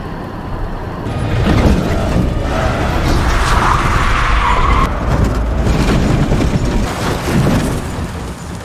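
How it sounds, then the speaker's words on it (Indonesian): A car lurches and swerves on a burst tire, loud skidding and tire screech rising over a roaring engine, then sustained squealing slides in several waves with heavy rumbling underneath for several seconds. "Pantesan mobil tiba-tiba oleng, ternyata ban mobil jebol"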